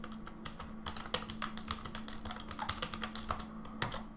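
Rapid typing on a computer keyboard, a steady run of close, crisp key clicks with no talking.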